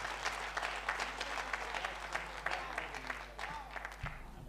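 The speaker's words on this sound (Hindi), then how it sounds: "भरपूर तालियों से इस्तकबाल कीजिए हमारे अगले शायर" Audience at a mushaira poetry gathering applauding to welcome the next poet, a steady wash of many hands clapping at moderate distance, with a low hum running underneath throughout.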